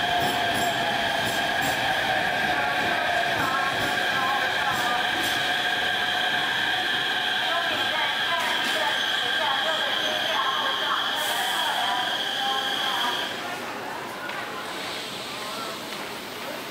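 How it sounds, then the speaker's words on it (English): Beijing metro train arriving at crowded Shahe Station during rush hour, a loud sustained rumble with steady high whining and squealing tones that cut off near the end as the train settles, amid a busy platform. "A second train arrives."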